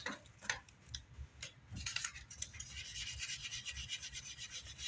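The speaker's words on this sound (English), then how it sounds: "what I'm doing is sanding the edge of that blue tape" Quiet, rhythmic rasping strokes of sandpaper rubbing back and forth along the edge of blue masking tape on a 1981 Gibson Explorer guitar, close and steady, with no voices.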